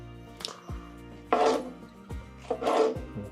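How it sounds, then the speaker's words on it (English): A knife slices through the point of a smoked brisket on a wooden board, making two soft sawing strokes with light thuds between them, close and fairly quiet, and no one speaks. "So I'm just going to rotate our brisket and take some slices off this way."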